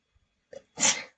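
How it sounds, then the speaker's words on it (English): A single sharp sneeze, close and loud, with a quick breathy intake just before it. "I feel like I need to sneeze."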